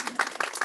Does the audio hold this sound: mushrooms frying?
no